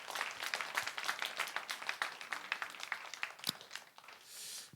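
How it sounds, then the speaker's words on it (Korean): A church congregation gives a round of applause for its young adults after a special song, a soft, distant patter of many hands clapping steadily before it fades out. "우리 청년들에게 다시 한번 박수하겠습니다."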